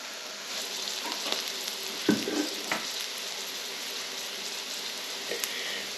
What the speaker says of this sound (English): I'm just going to fry it off for about 3 to 4 minutes till it's nice and soft